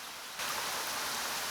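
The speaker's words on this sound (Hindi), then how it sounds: "रात को अचानक बहुत तेज बारिश शुरू हो गई।" Heavy rain falls suddenly at night in a cartoon, a steady broadband hiss that swells abruptly after a brief quieter start and then holds constant and loud, with no voices.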